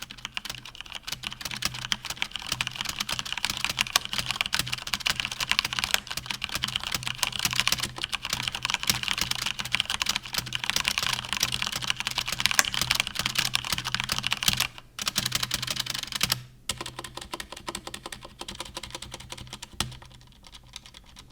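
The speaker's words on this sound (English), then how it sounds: "Now this is a K70 with reds." Continuous fast typing on a Corsair K70 RGB Mk2 keyboard with Cherry MX Red linear switches, a dense, fairly loud clatter of keystrokes with brief pauses near the end, no voices.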